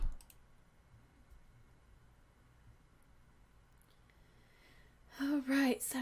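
Soft computer mouse clicks tick faintly at a desk, a few sparse clicks over quiet room hiss, before a voice begins speaking near the end.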